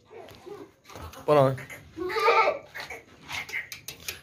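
Long-eared breeder goat bleating several times in a livestock pen, short wavering cries mixed with nearby talking voices.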